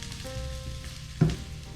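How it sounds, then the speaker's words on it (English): Onions frying in butter in a pan give a steady low sizzle and crackle, with a brief louder burst of spattering partway through. "we got some butter, we got some onions merging together very nicely"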